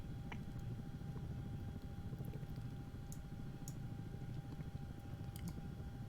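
A CH-47D Chinook tandem-rotor helicopter flies at speed in the X-Plane 11 simulator, a dense steady low rumble and rotor thrum with faint small cockpit clicks scattered over it, no talk.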